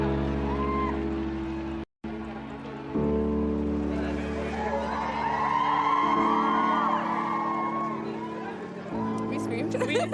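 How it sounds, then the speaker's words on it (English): A crowd gathered outside St. Mary's Hospital for the royal family's emergence with a new baby yells and whoops in a dense, continuous roar, with a brief dropout near the start, and people talk amid the noise. "Everyone was screaming, trying to get the pictures and videos."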